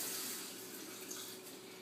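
Tap water runs steadily into a sink while aquarium rocks are rinsed clean of soap, a continuous close splashing hiss with no talking.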